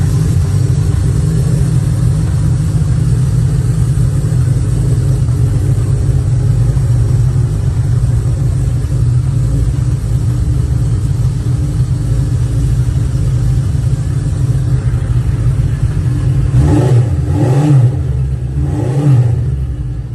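A 1974 Honda CB cafe racer motorcycle engine runs at a loud, steady idle that rumbles close by, then blips through a few quick revs near the end.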